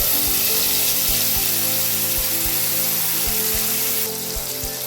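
Ground tomato, pepper and cumin paste sizzles in a hot pan while cooking horse gram rasam, a loud, steady hiss that runs without a break and has no voices over it.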